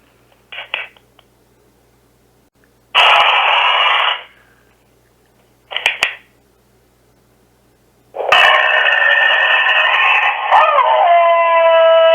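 Howls from a played-back recording come in separate bursts, two long sustained ones and two short ones, loud and clear against near silence, with the last howl drawn out and wavering in pitch.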